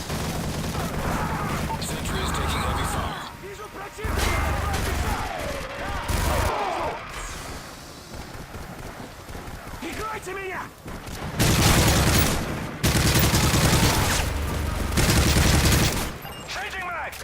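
Gunfire in the video game Call of Duty Modern Warfare 3 during a survival wave mode: dense bursts of rifle and machine-gun fire with heavy booms, alternating with brief lulls, under occasional in-game voice callouts.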